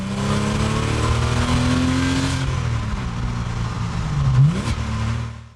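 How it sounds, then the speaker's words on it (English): A Porsche 986 Boxster's engine heard from inside on the road, a steady drone that rises and falls with the revs, dipping, then climbing sharply near the end, loud and continuous with no talking. "So we're now behind the wheel of the Porsche 986 Boxster"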